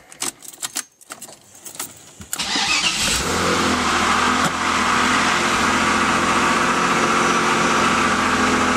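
A home-built car starts with some clicks and rattles, then its engine runs loud and steady with exhaust roar as it drives out, heard close.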